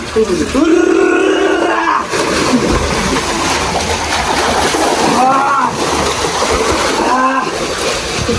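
Busy splashing and churning water from people diving and swimming in an outdoor pond used as a pool, with voices talking and calling over it throughout.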